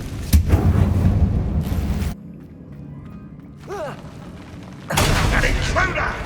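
Confringo spell blasts in the Hogwarts Legacy video game, set in an abandoned mine: loud, rumbling explosive bursts open and close the passage, with a quieter stretch between them where a voice briefly speaks.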